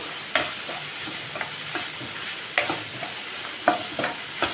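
Onions frying in a pan for aloo rice, a steady low sizzle under repeated light scrapes and taps of a spatula stirring, close up with no one talking.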